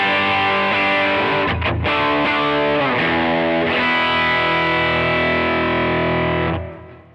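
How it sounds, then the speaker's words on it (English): An electric guitar played through a Kemper Liquid Profile of a Vox AC30 amp rings out loud, distorted chords with a brief choppy break, then one sustained chord that fades away at the end. "So now here's the AC30,"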